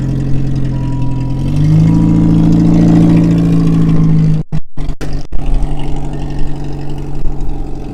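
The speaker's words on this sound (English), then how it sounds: "This one here still runs actually. I cut the converter off so it's kind of loud." An old, rusty limousine engine with its catalytic converter cut off runs loud and close, a steady rumbling drone that swells briefly as if revved, then turns rougher and choppier.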